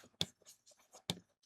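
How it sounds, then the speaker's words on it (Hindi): Chalk or marker strokes on a classroom board during a geography lesson, two sharp scratchy strikes with lighter scribbling between them, close and fairly quiet, with no talking. "अल्फ्रेड वेगनर, यहाँ लिख दूं अल्फ्रेड"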